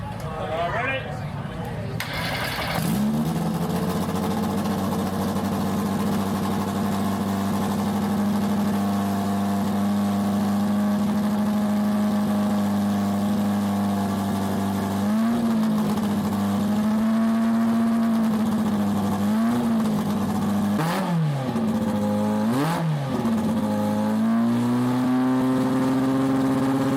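Benetton B186 Formula One car with a BMW M12/13 engine starts up after a brief whir, then idles with a loud steady drone and several sharp throttle blips, under a faint voice.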